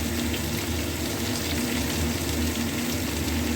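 Vegetables and onion frying in a pan give off a constant loud sizzle and hiss that holds steady from start to finish, close up and with no speech.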